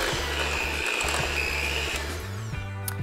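An electric mixer whirs steadily through dairy-free cream cheese chocolate chunk cookie dough as flour is worked in. The motor hum is even and close, then shifts pitch near the end as the speed changes.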